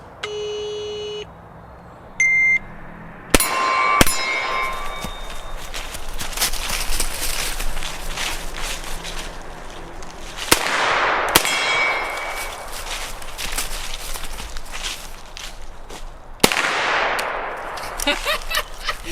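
Rifle shots ring against a steel gong target at an outdoor range with a customized GHM9 carbine, giving sharp metallic clangs and bangs spaced irregularly, some close and loud, with brief voices between.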